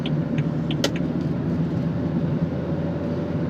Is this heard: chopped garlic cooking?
no